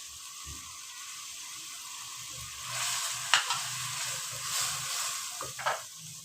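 Capsicum and spices sizzling and being stirred in a pan for chicken spring roll filling, a steady frying hiss with a few scraping stirs and clinks near the end.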